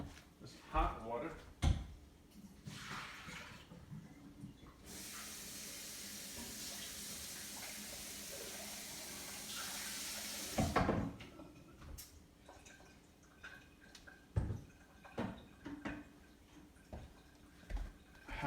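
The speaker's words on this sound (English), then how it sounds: "Start off with hot water." Hot water runs from a kitchen tap into a Vitamix blender jar during cleanup as a steady hiss for several seconds. Clattering handling noises come before and after it, and a person talks intermittently.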